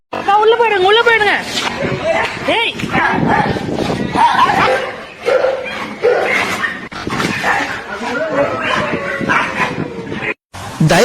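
A pit bull attacks and bites a street dog in Velachery, Chennai, with loud, repeated barking, yelping and whimpering close by, and people's voices and crowd noise throughout.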